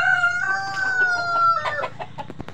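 A native rooster crows once inside a chicken coop, a loud, close, drawn-out call followed by a few short clucks.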